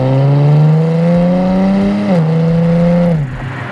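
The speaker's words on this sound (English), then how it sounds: "I love the pops and bangs when you hit the downshift and deceleration." A 2024 Nissan Nismo Z's engine rises under load, then drops sharply in pitch on a downshift and winds down on deceleration, loud and close, with faint crackles as the revs fall.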